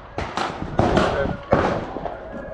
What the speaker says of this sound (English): Angeles shooting range.